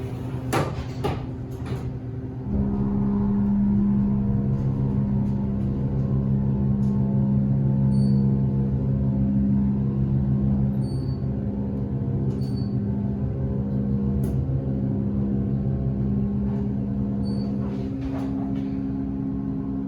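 A Kone Delta hydraulic elevator in a children's museum parking garage starts with a few clunks, then its motor drones with a steady, loud hum through the ride, with occasional clicks along the way.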